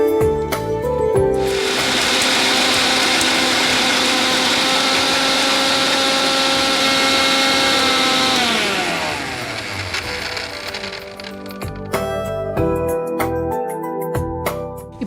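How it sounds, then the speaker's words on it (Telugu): A mixer grinder loaded with garlic, ginger and salt runs with a loud, steady, high whine for about eight seconds, then winds down and coasts to a stop among small clatters. "ఇప్పుడు ఇది మిక్సీ పట్టేసుకోవాలి."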